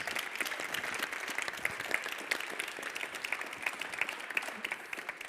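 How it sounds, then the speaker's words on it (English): Lecture audience applause, a steady wash of many hands clapping at moderate distance, even and sustained from start to finish. "So can I give them another round of applause?"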